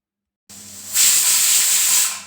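Pressure cooker whistle releasing steam while cooking gongura pulusu with turmeric and chana dal, a steady loud hiss that starts softer and then surges, holding for over a second before cutting off.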